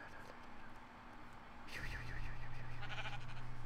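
A sheep bleats in Minecraft, a wavering bleat rising over a low hum after a quiet start, close and moderately loud.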